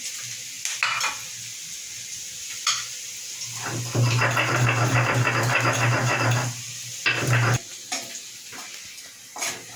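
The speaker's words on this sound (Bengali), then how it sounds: "পেঁয়াজটা লাল লাল হয়ে ভাজা হয়ে গেছে" Onions frying in a wok, a steady sizzle that swells loud through the middle as the pieces are stirred, with scraping and clattering bursts before and after and no one speaking.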